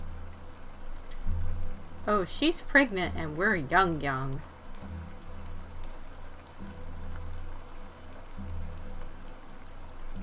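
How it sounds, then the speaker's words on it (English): Steady rain falls in the point-and-click horror game The Excavation of Hob's Barrow, a soft continuous wash that runs under voices speaking throughout. "Let's get out of the rain"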